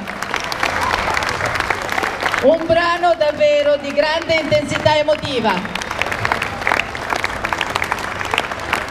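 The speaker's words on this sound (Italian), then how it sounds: "Un grande applauso!" Audience applause for the Banda Musicale Città di Chiaravalle, a municipal concert band, rising from crowd noise and continuing under a man's spoken announcements, with a sustained voice-like tone in the middle.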